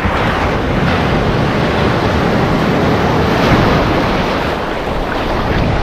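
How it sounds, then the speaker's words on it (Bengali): Sea waves break on Bakkhali sea beach at high tide, a steady, loud roar of surf with wind buffeting the microphone and no voices. "ঢেউ আসছে দেখুন, ঢেউ।"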